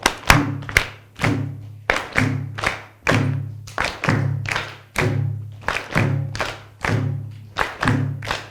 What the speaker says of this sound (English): No sound, just your hands or your feet or your claps.